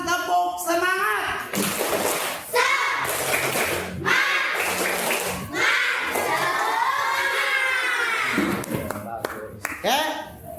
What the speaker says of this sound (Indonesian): Silakan sekarang tepuk semangat.